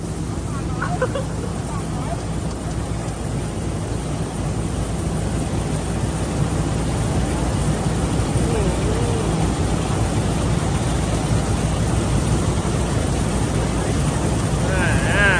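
A combine harvester works a rice field, its engine a steady, loud drone with mechanical clatter running throughout, while people talk over it.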